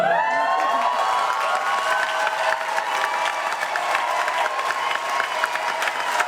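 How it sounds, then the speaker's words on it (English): An audience at a political event applauds loudly and continuously, with dense clapping and some cheering carrying through the whole stretch, no talking over it. "I want a round of applause that can be heard not in the White House."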